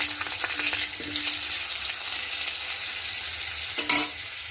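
Vegetables and fish for a fish curry sizzle and crackle steadily in a hot pan, a dense frying hiss with a few stirring scrapes and clinks near the start and end, close and without talk.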